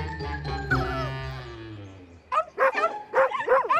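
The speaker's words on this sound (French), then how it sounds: "Vous entendez? Ce sont les autres petits chiens." Small cartoon dogs yelp and bark in quick, high-pitched bursts at the end, after a long whimpering animal cry that slides downward.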